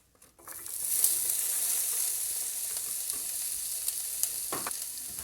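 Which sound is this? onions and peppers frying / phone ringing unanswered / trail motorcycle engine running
onions and peppers frying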